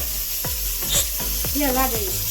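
Spices tempering dal in a pan give a loud, close sizzle, broken by several sharp clinks and a short tonal sound partway through.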